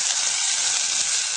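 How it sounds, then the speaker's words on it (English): Steady, bright sizzling of onions frying in hot olive oil, a continuous crackling hiss with no voices. "Make sure you hear that sizzle."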